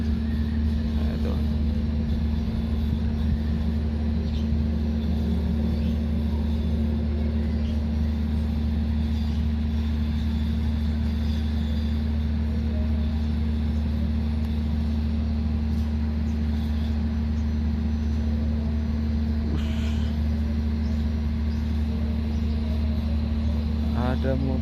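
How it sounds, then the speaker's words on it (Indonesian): A road vehicle near a railway station rumbles past with a steady low engine drone throughout, some faint clanks and a brief hiss-like burst near the end. "Ada mobil lewat."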